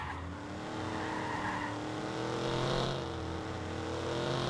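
Car driven hard in the video game Watch Dogs, a steady engine drone with tire noise and skidding, fairly close and continuous with no talk.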